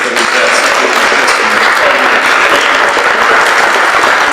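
Dense, loud applause from an audience thanking guests from St. Thomas and Visitation, a steady wash of clapping hands that holds evenly throughout.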